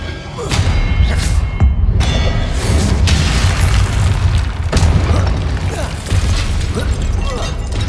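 Spell effects firing in the video game Hogwarts Legacy: loud booming blasts, thuds and mechanical clatter in rapid succession over a dense, rumbling combat soundscape.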